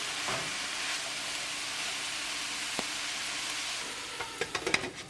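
Mushrooms and French beans sizzle steadily in a hot pan with tempered spices, a constant close frying hiss joined near the end by a few sharp scraping clicks as the mixture is stirred.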